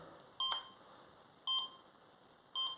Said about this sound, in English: I'll plug in engine number 3 and it will start to beep